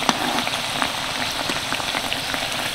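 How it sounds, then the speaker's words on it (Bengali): Three Bangladeshi nakshi pitha, decorated rice-flour cakes, fry together in hot oil with a continuous crackling sizzle and scattered pops, steady and close with no talking. "আমি এখানে 3টে পিঠে একসাথে ভেজে নিচ্ছি।"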